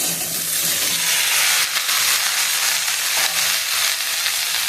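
Star fruit pieces frying in oil with dried chilli and panch phoron for a sweet pickle give a close, steady sizzling hiss with light crackle throughout, no voices.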